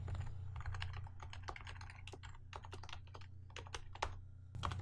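Java code being typed on a computer keyboard, rapid irregular clusters of crisp close key clicks with brief pauses and a low steady hum beneath, no talk.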